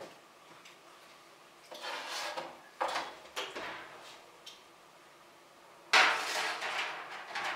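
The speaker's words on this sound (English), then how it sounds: "I'm just going to throw my other cookies in the oven here." A tray of Easter cookies slides onto the top oven rack, with a few metallic clanks and scrapes, a bright rack-like rattle near the start, and a louder clatter as the oven door shuts.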